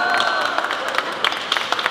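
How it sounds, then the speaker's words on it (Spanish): An audience at a storytelling session claps in a short, loose round of applause, with separate claps heard under a voice speaking. "Vamos a darle un aplauso"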